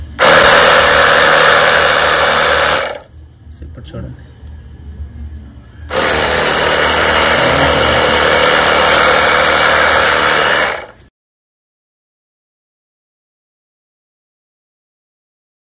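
A bike washing gun sprays pressurised water onto a motorcycle, a loud, steady hissing rush that cuts out for a few seconds while someone speaks briefly, then resumes before stopping abruptly.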